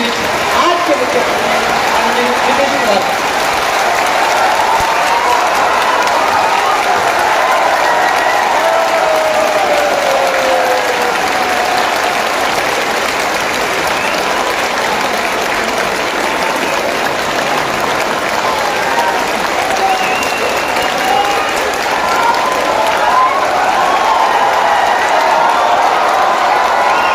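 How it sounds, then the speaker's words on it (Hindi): Sustained loud applause from a large crowd welcoming the chief guest at a club event marking Emperor Ashoka's birth anniversary, a dense steady wash of clapping lasting nearly half a minute with no break. "आप लोग तालियों के साथ बुलाएं"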